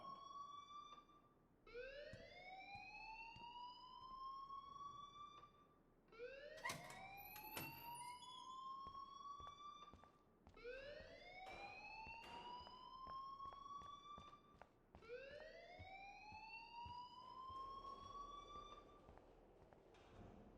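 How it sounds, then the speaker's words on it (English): A fire alarm rings in the video game Life is Strange, a loud wailing tone that sweeps upward and repeats in steady cycles about every four seconds, with no talking over it. "please turn off that alarm since that's your job"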